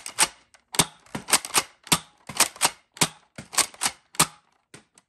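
Adventure Force Villainator toy blaster firing Elite foam darts: a string of sharp, snappy shots in quick irregular bursts, close and loud, with short gaps between clusters and no talking.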